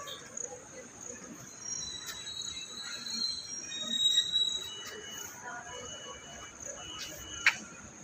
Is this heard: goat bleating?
no